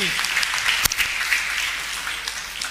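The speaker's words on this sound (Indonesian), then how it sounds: "Kita tepuk tangan" Audience applause at a campus event, a continuous patter of many hands clapping at moderate level, with one sharp thump partway through and scattered voices beneath.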